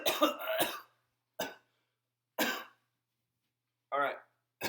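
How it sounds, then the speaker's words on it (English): Several separate harsh coughs close to the microphone, spaced a second or so apart with silence between, the last one more throaty and voiced. "I have one of those coughs where it feels like you might throw up."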